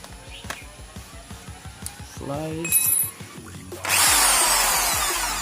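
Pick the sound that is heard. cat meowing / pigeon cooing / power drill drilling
power drill drilling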